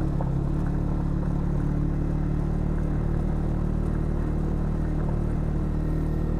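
Motorcycle engine rumbling steadily throughout while riding on the embankment around the Lapindo mudflow toward an asphalt road, a continuous low drone with road noise and no talk.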